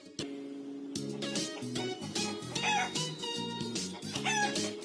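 A chicken clucks repeatedly and a rooster crows, close and fairly loud, in busy overlapping calls over a steady tonal backing.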